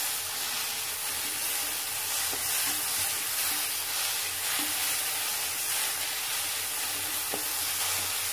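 Asafoetida stirred into a hot pan of drumstick flower and green gram thoran, a steady loud hissing sizzle with faint scraping and occasional small clicks, constant throughout without talk.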